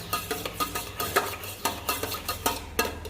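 A drink stirred briskly in a cup, a rapid series of spoon clinks and swirls repeating about twice per second, close and clear, with no voices.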